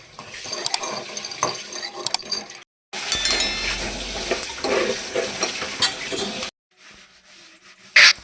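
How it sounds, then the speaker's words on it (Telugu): Peanuts being dry-roasted in a kadai, scraping and rattling steadily against the metal pan with stirring strokes, loud and close, broken by brief pauses. "మనం తీసుకున్న పల్లీల్ని బాండ్లో పెట్టుకొని వేపుకోవాలి."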